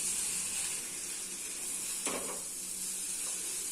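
Raw banana pieces stir-frying with salt and asafoetida give a soft, steady sizzle and hiss, with one brief scrape of the spoon midway and no talking.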